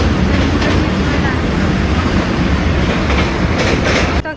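Passenger train rolling along rails on a journey to Raipur, heard from inside the carriage as a loud, steady rumble with rhythmic clickety-clack of wheels over rail joints, continuous throughout before a sudden drop at the end.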